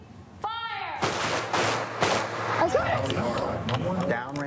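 Several semi-automatic pistol shots crack sharply in a row at close range, loud and abrupt, with people talking in between.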